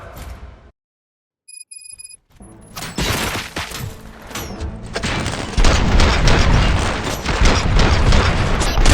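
Rapid bursts of gunfire and booming shots in the video game RoboCop: Rogue City crowd together after a brief silence, loud and continuous, with a synthetic, game-like crackle.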